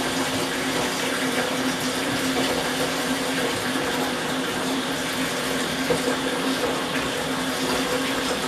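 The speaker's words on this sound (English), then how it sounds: "I will put water in it and let it soak." Warm water runs into the fuel tank of a 1977 John Deere 212 lawn tractor, a steady, close rushing pour with a hollow metallic ring that continues unbroken without speech.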